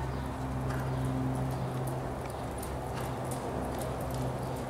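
A horse trots at a medium working trot during a rider's basic training exam, its hooves clip-clopping steadily at a moderate distance over a constant low background hum.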